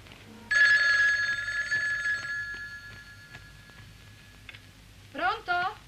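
A telephone bell rings loudly in one long continuous burst lasting nearly two seconds, then fades, followed by a brief voice.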